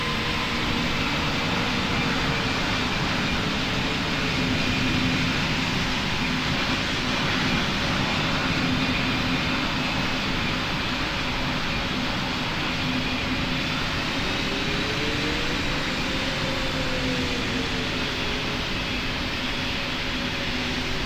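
Airliner jet engines roar steadily during takeoff in the Roblox flight game PTFS, a constant loud broadband rumble with a faint shifting whine for the whole stretch, no voices.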